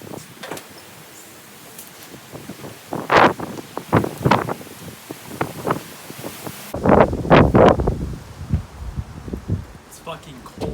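Cold wind buffets the microphone outdoors in irregular rushing gusts, some loud and close, with quieter stretches between them.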